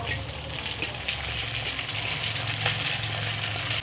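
Chopped onions hitting hot oil with ginger and garlic in a pan for chili chicken, a loud, steady sizzle and hiss running continuously up close, with no speech.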